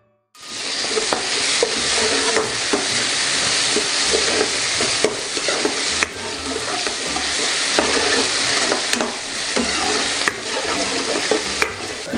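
Tomato fried with onions and salt in a hot pan, producing a loud, continuous sizzle with frequent close scraping strokes from a spatula throughout, and no voices.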